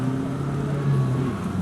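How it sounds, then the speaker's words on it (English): A Bowler-powered 2-litre turbo rally car on the Somerset Stages rally, a steady loud engine drone with a slight rise in pitch midway, heard on its own without voices. "Benson and Stanton with his 2-litre turbo car"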